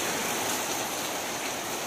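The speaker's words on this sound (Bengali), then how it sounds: "এই দেখো এই বছরের প্রথম বৃষ্টি।" First rain of the year falling, a steady broadband hiss of rainfall close by, continuous and even throughout with no voices.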